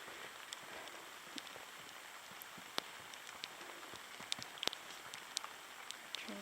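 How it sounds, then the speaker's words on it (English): Rain falls steadily on a mountain hiking trail to Lake Bertha in Waterton Lakes National Park, Alberta, a soft, even hiss with scattered sharper drips and taps, quiet and continuous with no talking. "That's the nice thing about rain."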